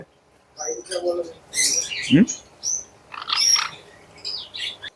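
Assorted parrot-like squawks and chirps ring out in short bursts, one low harsh call among higher whistles, fairly close with no talking.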